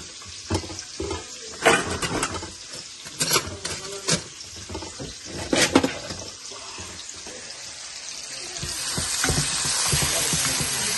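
Onions, spinach and bay leaves frying in oil left over from frying fish, with a sharp sizzle, clattering stirs and scrapes early on, then a steady rising hiss toward the end.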